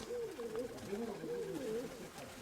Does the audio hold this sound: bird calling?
yes